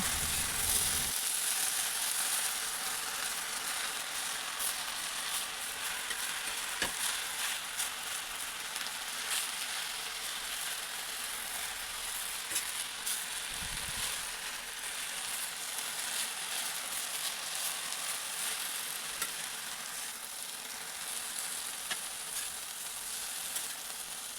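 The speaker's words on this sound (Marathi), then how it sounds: "ती मस्त तेलावरती भाजून घ्यायची" Ambadi (sorrel) greens fry in oil on a flat pan, giving a steady, dense sizzle that runs unbroken from start to finish at close range, with faint stirring scrapes and no talking.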